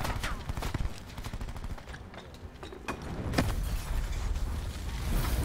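Rapid gunfire in the Mozu battle game on the Alcatraz map, a dense run of sharp clicking shots and mechanical rattles that carries on steadily throughout, loud and close.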